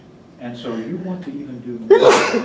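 A single loud, sharp sneeze bursts out near the end, right after someone talking in a college lecture.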